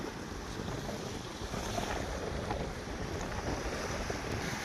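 Strong wind sweeps over choppy waves on the Rupnarayan river, a steady, loud rush of gusts and churning water that never lets up, with no voices.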